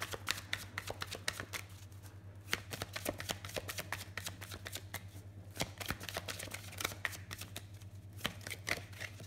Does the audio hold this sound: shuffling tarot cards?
yes